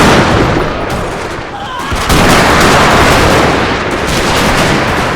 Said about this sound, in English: managed to buy Jackson time to construct a defensive line on Henry House Hill by firing repeated volleys at Sherman's advancing brigade